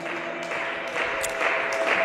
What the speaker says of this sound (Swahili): Piga makofi kwa ajili ya neno la Mungu.